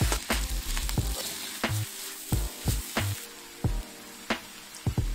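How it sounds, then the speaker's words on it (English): Fried rice being stir-fried with aromatics and sauce in a hot pan, a constant sizzle broken by sharp, regular clanks and scrapes of tossing and stirring. "Now recombine everything and mix it all up."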